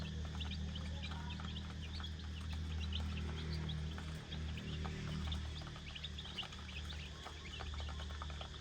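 Chickens cluck and chirp steadily over a low background hum, with overlapping calls from several birds at moderate distance.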